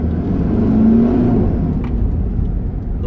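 A car engine revs up and accelerates, a steady, loud low rumble rising briefly in pitch before settling.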